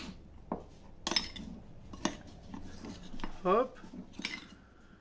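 Chorizo and maroilles cake batter being stirred in a bowl: a few sharp utensil clinks and scrapes against the bowl, fairly close, with a brief spoken word in between.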